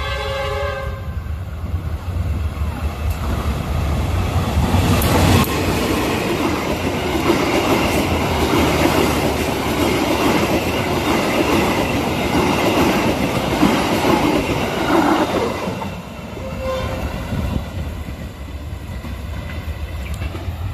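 Siantar Express passenger train hauled by a special holiday-livery locomotive pulls away from Lubuk Pakam station in Indonesia, a loud, steady rumble of engine and wheels with a horn blast near the start, rolling on continuously.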